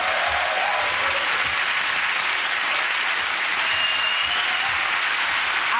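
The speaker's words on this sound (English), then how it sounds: "again, that round of applause to Russell, Zoe and Andy." A studio audience at a TV comedy panel show claps in a loud, continuous burst of applause that stays even throughout.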